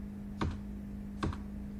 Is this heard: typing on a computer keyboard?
yes